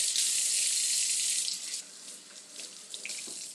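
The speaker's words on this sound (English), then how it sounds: "let me wash my hands" Tap water running steadily into a sink while hands are washed, a bright hissing stream that thins and splashes unevenly toward the end.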